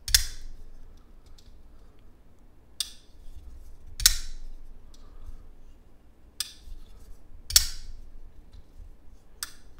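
SBD Evo Typhoon full-size folding knife with a flipper tab, snapping open and shut in about seven sharp, bright clicks spaced a second or two apart over a quiet background.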